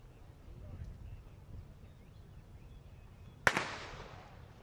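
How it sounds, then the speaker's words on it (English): A starting pistol fires once to begin a heat at an outdoor college track and field conference meet: a single sharp crack with a fading tail, after quiet crowd murmur. "Be still, and I will shoot the gun."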